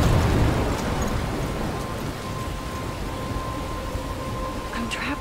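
A rainstorm in the video game Life is Strange: steady, hissing rain pours down with a low rumble of thunder underneath, louder at first and then settling into a constant wash.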